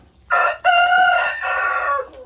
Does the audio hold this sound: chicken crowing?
yes